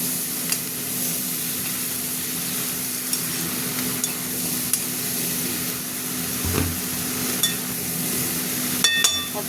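Carrot and ash gourd being stirred in a pan, a soft continuous sizzle with a faint hum beneath and periodic light clinks of the spoon against the metal.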